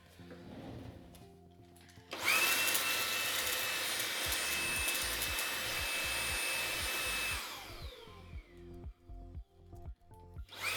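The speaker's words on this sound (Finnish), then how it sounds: "Otetaan täältä imuri." A vacuum cleaner used to clean a computer switches on and runs loudly and steadily for several seconds, then winds down, with faint knocks and clatter before and after.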